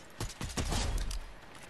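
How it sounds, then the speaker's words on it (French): Gunfire in Fortnite Chapter 4, a quick burst of several close shots in rapid succession over under two seconds, fairly faint overall with a thumping low-end rumble. "Oh, ça nous tire à droite."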